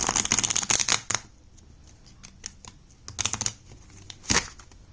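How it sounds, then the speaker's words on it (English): Someone shuffles a tarot card deck close by: a quick riffling burst at the start, then scattered light card snaps and a few more short riffles, with no talking. "I always kind of fail when trying to shuffle this deck"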